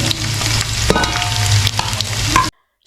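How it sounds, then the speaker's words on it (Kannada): Chopped garlic and ginger fry in hot oil in a pan for a Chicken Chilly recipe, giving a loud, close, continuous sizzle with stirring that stops abruptly into silence. "ಬಾಣಲಿಗೆ ಎಣ್ಣೆ ಹಾಕಿ ಎಣ್ಣೆ ಹಾಕಿದ ನಂತರ ಮೊದಲು ಬೆಳ್ಳುಳ್ಳಿ"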